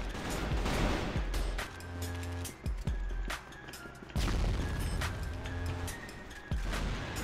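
Gunfire in the online shooter CrossFire, a dense run of rapid shots and blasts with a few louder impacts, continuous and close throughout the clip.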